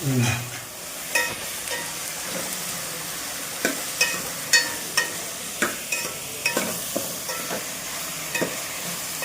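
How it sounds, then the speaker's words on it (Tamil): Chopped brinjal and okra sizzle steadily in hot oil in a pan for a spicy kara kuzhambu, with repeated sharp scrapes and knocks of a spoon stirring through the vegetables. "நம்ம நறுக்கி வச்ச கத்திரிக்காய் வெண்டைக்காய் ரெண்டும் விட்டு நீங்கள் எண்ணெயில் போட்டு நல்லா வதக்கணும்"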